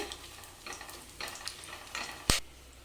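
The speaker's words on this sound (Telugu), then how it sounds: "ఈ మసాలాలన్నీ కాస్త ఫ్రై చేసుకోవాలి" Whole spices such as mace and black cardamom fry in oil for a mutton curry, giving a soft, steady sizzle with gentle stirring and one sharp click near the end, no voices.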